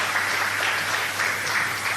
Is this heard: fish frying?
no